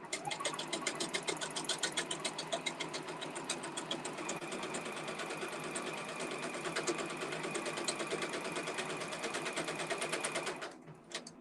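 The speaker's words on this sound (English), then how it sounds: "And now I can sew out the word Juki." A Juki embroidery sewing machine stitches out lettering in a fast, even, close chatter for about ten seconds, then winds down to a stop.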